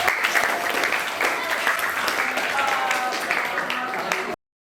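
An audience claps for a student group during a classroom session, a brief burst of mixed hand claps with faint voices underneath, ending abruptly.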